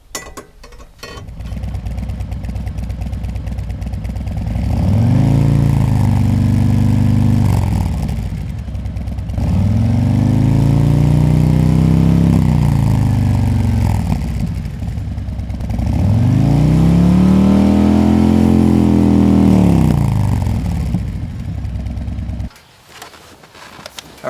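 A Harley-Davidson motorcycle fitted with Khrome Werks HP Plus louvered baffles, heard close up, revs three times in long, loud swells. Each swell climbs and falls back to a rumbling idle, and the engine cuts off at the end.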